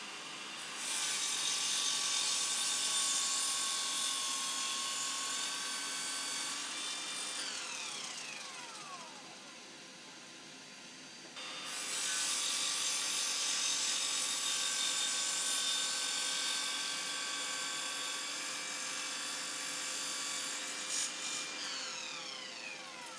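A cordless Evolution mitre saw whines steadily as it cuts through material, two long cutting passes separated by a brief drop as the blade spins down, with the motor pitch sliding at the end of each cut.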